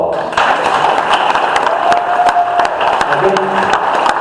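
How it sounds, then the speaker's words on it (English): An audience at a general meeting gives a sustained round of applause, dense clapping mixed with crowd murmur and a few voices, loud and steady. "let's give them a round of applause."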